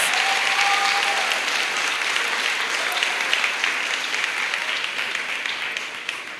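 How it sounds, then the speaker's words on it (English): A school prize-giving and awards ceremony audience applauds the organizing team with full, continuous clapping from a large crowd in a hall, gradually softening over several seconds. "Let us give them a round of applause."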